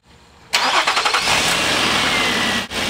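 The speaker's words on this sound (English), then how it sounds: "Let's start the car." A car engine turns over and catches with a short burst of cranking, then settles into a loud, steady idle close by, with a brief dip near the end, during a cam sensor test.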